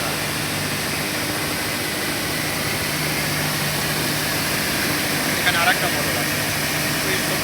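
An electric motor runs in a rice processing mill at Chachkor bazar in Gurudaspur, Natore, giving a steady, unbroken mechanical drone that fills the space without rising or falling.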